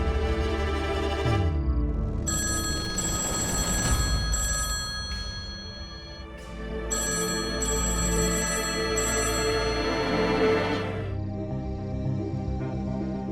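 A telephone bell rings in a home, repeated bursts of bright trilling with short pauses between them, loud and close.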